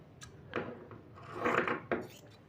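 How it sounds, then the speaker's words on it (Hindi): Scissors cut through kurti fabric at the shoulder, with a few soft snips and rustling rubs of cloth close by and no talk. "स्लीव्स को ऊपर करके इस तरीके से हम शोल्डर से कटिंग करेंगे।"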